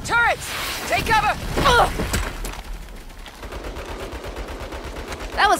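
Turret gunfire in the video game Saints Row, rapid bursts of automatic shots in several volleys, loud and close, with voices shouting over the fire.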